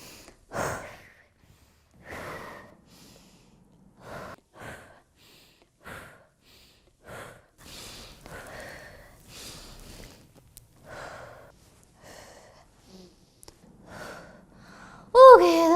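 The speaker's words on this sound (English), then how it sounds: "I want everyone to do a little breathing exercise with me." A group breathing exercise in a classroom, with about ten slow inhale-and-exhale cycles coming as soft, evenly spaced breaths over quiet room noise. A louder burst closes the sequence.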